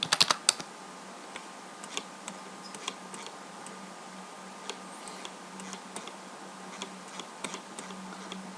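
Typing on a computer keyboard while working in Microsoft Excel: light, quick key clicks in short uneven runs against a quiet background hum, close and soft.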